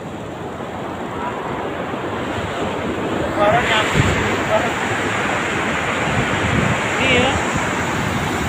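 Ocean waves surge close to a roadside, a broad roaring wash with wind buffeting the microphone, swelling louder midway, while a voice briefly speaks.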